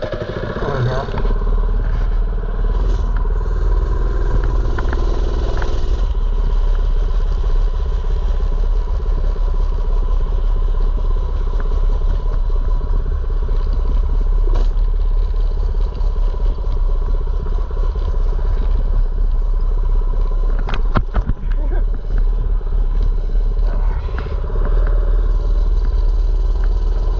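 A mini bike engine runs continuously and loud throughout a ride, a steady droning motor with rattles and clatter, heard up close without pause.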